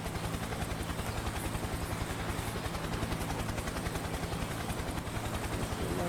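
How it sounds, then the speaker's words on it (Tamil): A helicopter in the video game IGI Covert 2 drones steadily nearby, its rotor chop a fast, even pulse that stays loud and constant throughout with no talking over it. "ஹெலிகாப்டர் சவுண்ட் எனக்கு இங்கே தான் பக்கத்துலலாம் கேட்குது"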